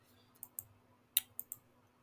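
Several sharp, isolated key clicks from a computer keyboard, spaced irregularly over two seconds, close by and fairly quiet against a low steady hum.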